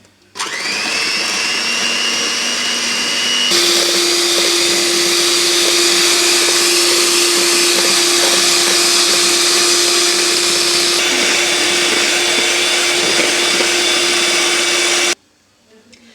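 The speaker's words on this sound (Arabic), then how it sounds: "غادي نزيدها وغادي نخدمهم مزيان حتى ما غنوصلاش انها تطلع بحال الشونتيي" An electric mixer whips cream until creamy for a homemade almond and caramel ice cream. Its loud, steady motor whine shifts pitch as the speed changes twice, then cuts off abruptly near the end.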